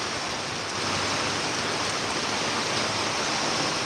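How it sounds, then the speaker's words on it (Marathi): Steady, dense roar of heavy rain with rushing wind in Ardhapur taluka, loud and continuous throughout, no voices. "किती जोराचा पाऊस आणि वारे आहेत"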